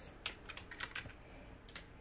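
Computer keyboard being typed on during a sublimation craft project, a quick irregular run of light, close key clicks with short pauses between bursts.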